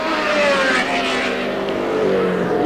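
A Formula One race car at the 1970 British Grand Prix at Brands Hatch roars close by, its loud, steady engine howl filling the moment with a slight rising whine and no voices.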